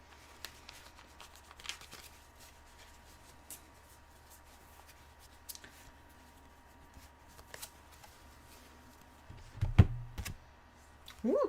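Soft shuffling of tarot cards during a reading, faint intermittent riffles and card taps over a quiet background, with a slightly louder rustle near the end and no speech.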